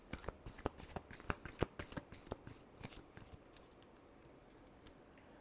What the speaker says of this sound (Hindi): इसके लिए लास्ट शफल।